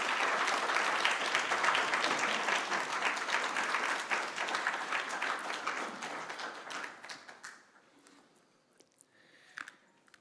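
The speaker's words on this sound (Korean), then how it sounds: "우리 목사님 나오실 때 먼저 우리가 힘차게 박수로 좀 환영을 하면서 우리 하겠습니다" A church congregation claps warmly to welcome a visiting pastor, a dense, loud wash of applause from many hands that fades out over the last few seconds into near quiet with a few stray claps.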